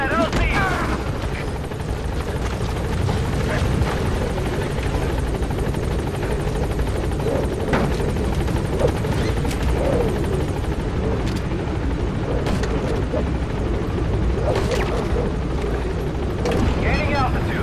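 Helicopter in the video game Metal Gear Solid V arriving at a landing zone, a loud continuous rotor thump throughout with scattered sharp bangs and bursts of gunfire, and a radio voice talking over it.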